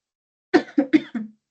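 A lecturer in a morphophysiology class coughs four times in quick succession. The coughs are close, sharp and loud, with the last one softer and more drawn out.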